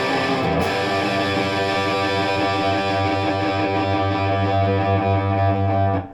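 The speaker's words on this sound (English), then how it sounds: "Now that's a really smooth distortion tone there that I've got." Distorted electric guitar played through a THD UniValve single-ended tube amp holds one thick, sustained chord that rings loud and steady for about six seconds, with no voice over it.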